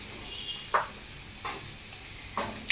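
Mustard seeds, cumin and dried chili pieces hit hot oil over low heat, giving three or four short crackling sizzle bursts over a quiet background hiss.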